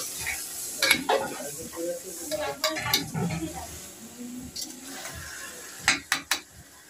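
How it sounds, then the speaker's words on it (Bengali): Chicken sautéed in a cooking pot for biryani, with a steady sizzle beneath repeated metallic scraping and clinking of a spoon against the pot, ending in a quick run of sharp knocks. "কড়াই ছিল না বলে হাঁড়িতেই চিকেনটা কষিয়ে নিচ্ছি"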